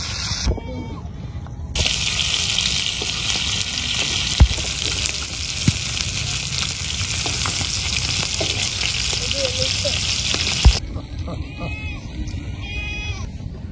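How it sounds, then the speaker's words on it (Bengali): Freshly caught tilapia frying in hot oil outdoors beside a village pond, a steady loud sizzle and hiss lasting most of the stretch with a few sharp pops and clinks, voices in the background. "তো হয়ে গেছে আমাদের তেলাপিয়া মাছ ভাজা"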